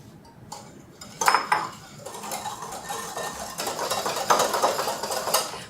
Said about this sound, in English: So, we are going to whisk everything together and go ahead and start with my eggs.